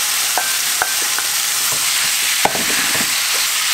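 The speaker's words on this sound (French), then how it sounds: "Ma poêle est chaude, je vais mettre du coup le gyros à l'intérieur et je vais le faire cuire" Gyros meat cooking in a hot frying pan gives a steady, loud sizzle throughout, broken by a few brief clicks and scrapes of stirring.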